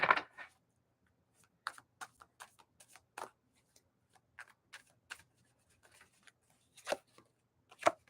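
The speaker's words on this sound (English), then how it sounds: "You saw me shuffle." A tarot card deck being shuffled during a live reading, heard as scattered dry clicks and short riffling bursts with quiet gaps between them, close and fairly soft, with no talking.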